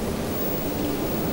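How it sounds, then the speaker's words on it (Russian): Steady hiss of rain with a low rumble of thunder beneath it in the video game Planet Explorers, a continuous even wash of noise with no talking. "дождь."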